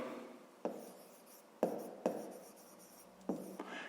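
Pen writing on paper in a fifth-grade maths exercise, quiet scratchy strokes in a few separate bursts with short pauses between, close and alone.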